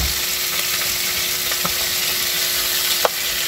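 Washed chicken feet sizzling in a pan of sautéed aromatics for adobo, a steady bright frying hiss with a few soft clinks and stirring taps.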